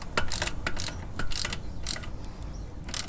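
A socket wrench ratchets in quick bursts of clicks, tightening bolts on an aluminum front sprocket cover of a 2021 Honda CRF110, close up with short pauses between strokes.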